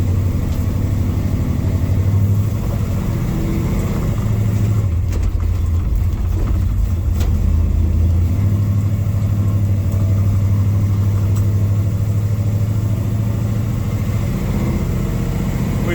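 An old truck with a governor and early-shifting gearbox drives down the road, its engine droning steadily and loudly throughout, with a brief change in pitch midway as it shifts.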